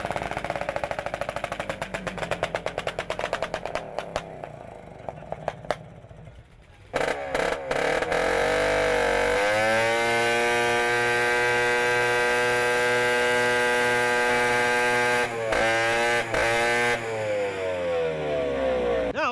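A race sled engine fitted with a custom exhaust made from a car tailpipe and muffler revs in choppy bursts, then holds a loud, sustained high-rpm drone before dropping back, with no talking.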